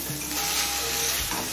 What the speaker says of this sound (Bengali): এবারে সব কিছু আরও কিছুক্ষণ সময় নিয়ে ভেজে নেব।